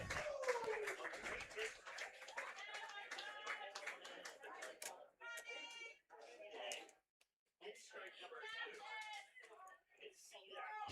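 At a minor-league baseball game between Elmira Pioneers and Batavia Muckdogs, the crowd claps in rhythmic bursts of approval, with play-by-play commentary talking over it and a brief pause near the end.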